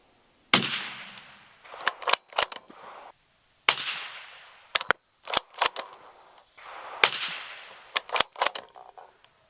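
Rifle shots through a Q Speakeasy suppressor at an outdoor range, fired in three bursts of sharp reports separated by short pauses, each crack followed by a brief muffled tail, loud and close with no talking.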